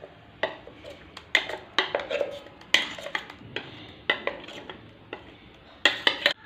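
Ground lentil paste is scraped out of a grinder jar into a wide metal plate, giving a series of sharp spoon-on-metal clinks and taps, fairly close, in irregular bursts with no talking.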